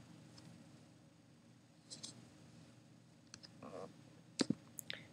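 A computer mouse clicks a few times, sparse and quiet, with scattered soft taps against a low, hushed background and no one speaking.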